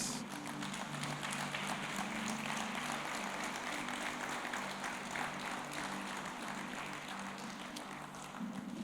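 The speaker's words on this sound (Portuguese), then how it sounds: "Uma salva de palmas para Jesus." A church congregation at a Sunday evangelical service claps together in a sustained, even wash of sound that holds steady and thins only slightly near the end.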